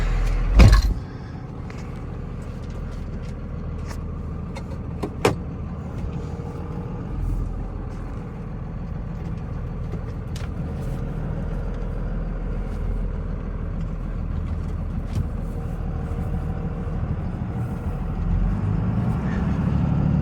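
A 1998 Dodge Ram 2500 Cummins diesel pickup truck's engine rumbles low and steady while driving, with a couple of sharp knocks and faint road noise throughout.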